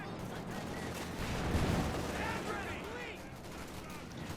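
Bazooka and tank fire in Company of Heroes 2 against a Panzer IV, a dense rumble of distant battle explosions and gunfire that peaks midway, with no talk.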